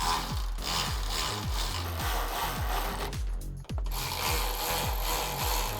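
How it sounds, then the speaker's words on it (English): Shoulder bolts are tightened through the windshield actuator on a Can-Am Maverick using a 3mm Allen key and an 8mm wrench, producing a close, evenly spaced ratcheting click that repeats steadily with a brief pause partway through. "Now we're gonna tighten down our shoulder bolts that are going through the actuator."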